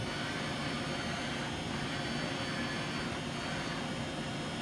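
A Mazak AJV25404N machine head traversing left and right gives a steady, fairly quiet whirring mechanical drone that holds evenly throughout.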